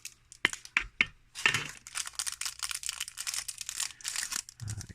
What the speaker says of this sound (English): Excuse the crinkling, I'm just trying to figure out how to get it out